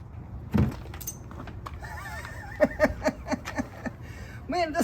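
Doors are removed from a Jeep Wrangler TJ: a single thump, then a quick series of metallic clicks and clunks from the door hardware, close up, with some talking mixed in.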